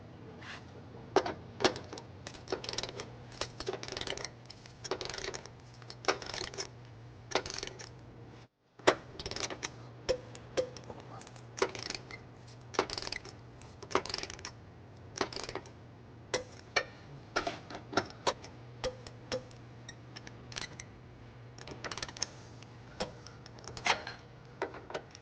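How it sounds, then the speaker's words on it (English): Ratchet with a 19mm socket on a 5-inch extension tightening trailer hitch bolts under a 2019 Infiniti QX60, a long run of rapid close clicking bursts with brief pauses and a low steady hum behind. "we're going to tighten and torque all of our bolts to the manufacturer specification. We're going to be using a 19mm socket"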